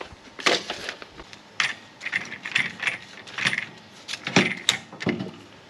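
Screw clamp on the handle of a Wild Badger 52cc brush cutter being fitted and clicked into place, a series of close plastic-and-metal clicks and ratcheting knocks at an uneven rhythm, with no speech.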